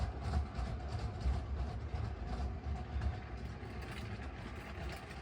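A LEGO toy train rumbles continuously along its track, with a steady rattling, clicking motor drone and no pauses.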